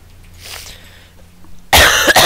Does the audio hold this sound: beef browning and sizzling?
no